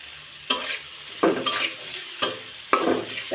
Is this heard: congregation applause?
no